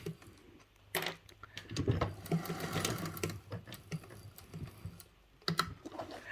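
A sewing machine runs in short bursts while reverse stitching a seam on a handmade bag, its motor whirring close up between brief pauses and clicks.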